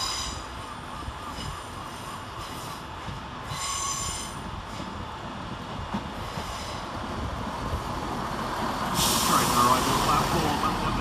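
Southern Railway train at Eastbourne station, with drawn-out metallic wheel squeals and brake hiss over rumbling running noise that grows louder toward the end, alongside faint station announcements.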